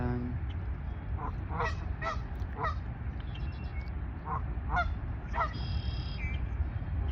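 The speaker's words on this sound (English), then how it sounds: "I've got 2 mallard ducks now waddling their way this way." Two mallard ducks walking nearby give short bursts of nasal, honking quacks in small clusters over several seconds, set against steady outdoor background noise.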